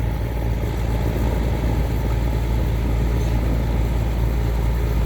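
Small wooden tugboat engine idling steadily while towing a heavy pontoon in the morning, a close, continuous low drone with no breaks and no voices.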